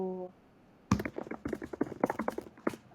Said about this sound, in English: All I hear is all of us typing.